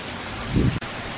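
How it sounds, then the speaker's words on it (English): Steady rain pours down during a tornado storm, with a low rumble of thunder swelling briefly in the middle, then the downpour continues. "You can hear the rain. The wind is blowing."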